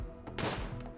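In the video game Rimworld, a short burst of gunfire is aimed at a chinchilla, a single sharp crack over a rumbling game background, lasting under a second.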